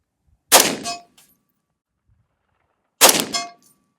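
Two loud unsuppressed KAC SR25 .308 rifle shots about two and a half seconds apart, each followed by a sharp metallic clang and brief ringing as the round hits a steel target downrange, with silence between them and no talking.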